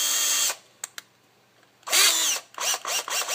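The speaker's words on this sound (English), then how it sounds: "this is a continuation of the first video using the Dewalt drill, 12 volt" A Dewalt 12 volt drill drives hex head screws into a desk, its motor whining in loud bursts: one run, a pause with small clicks, then a longer surge followed by several short stuttering pulses as the screw seats.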